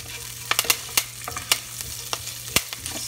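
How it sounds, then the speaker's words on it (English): Mustard seeds splutter in hot oil with chopped ginger and curry leaves, giving a close, loud string of sharp irregular pops and crackles over a constant frying hiss, with no voices. "the mustard seeds are spluttering"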